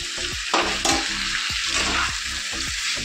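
Taro and potatoes are stir-fried in oil, a close, loud sizzling hiss with rhythmic scraping strokes of the spatula, no talking.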